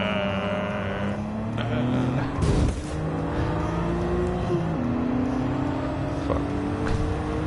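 Honda NSX engine in Gran Turismo 7, a revving car note climbing and shifting through gears with a brief burst of noise, heard at moderate level beneath faint background sound.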